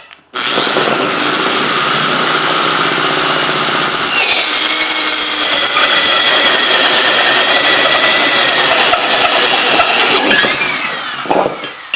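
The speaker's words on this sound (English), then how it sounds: "you will drill a guide for the rest of the cut with your hole saw" A power drill with a hole saw bores a guide cut, a steady loud whining grind running continuously for about eleven seconds with a slight shift in tone partway, close and without talk.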